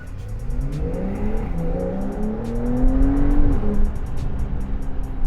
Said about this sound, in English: That's just letting the car shift. It's that quick.